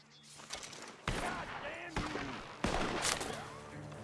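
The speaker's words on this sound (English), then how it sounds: "The gunshots are coming from that bar." Several sharp gunshots crack out at irregular intervals with echoing tails, while voices talk underneath, in Red Dead Redemption 2 combat in Saint Denis.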